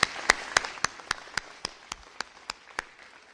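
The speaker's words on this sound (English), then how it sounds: "Let's give them a big round of applause." Slow, evenly spaced claps at a press conference on the Illinois school report card, about a dozen distinct sharp hits in steady rhythm, moderately loud and not blended into a full crowd roar.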